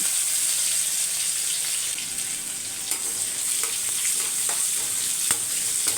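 Cumin seeds, curry leaves and garlic cloves temper in plenty of hot oil, a loud, continuous sizzle with scattered clicks and taps from stirring close by.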